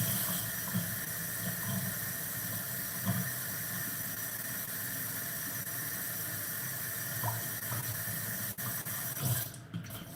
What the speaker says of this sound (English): So just do a tiny rinse.